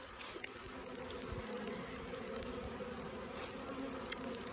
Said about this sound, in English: I can't tell if it's raining or if it's bees swarming in my ears